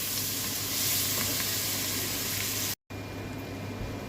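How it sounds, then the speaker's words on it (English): Onions and celery sautéing in bacon fat for a seafood chowder, a continuous dense sizzle that stays close and even, with a brief dropout near the end, no talking. "we're going to add our aromatics, onions and celery. And you saute those in that fat"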